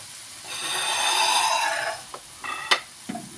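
Yufka pieces for mantı fry in hot oil in a pan, a steady soft sizzle that swells then fades, followed by a few sharp clinks and scrapes of utensils against the pan.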